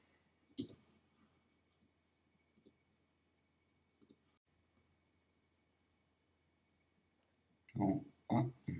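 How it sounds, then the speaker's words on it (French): A computer mouse clicks to select photos in photo-editing software: three sharp, isolated clicks spaced about two seconds apart, close and crisp over a quiet background, followed by louder, voice-like bursts near the end. "Alors, je clique, elle est sélectionnée, je continue ma sélection."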